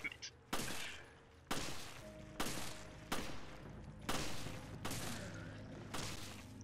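Single heavy gunshots from Resident Evil: Revelations, six or so sharp reports spaced about a second apart, each with a ringing decay, fired at a tough monster.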